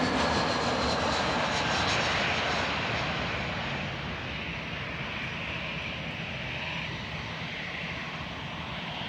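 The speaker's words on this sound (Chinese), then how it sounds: "四川航空的空客 A310" A Sichuan Airlines Airbus A310 jet airliner roars with engines at full power, a loud, steady broadband rush that eases slightly in the second half, with no voices.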